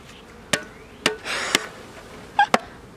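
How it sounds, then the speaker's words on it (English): Sharp knocks and thumps as a box holding three pounds of honeybees is tapped to drop them into a hive, with a rising buzz of bees swelling between the hits, close and fairly loud. "here's 3 pounds of honeybees being dumped into a hive as gently as possible"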